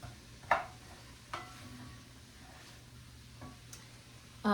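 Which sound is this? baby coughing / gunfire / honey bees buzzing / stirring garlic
stirring garlic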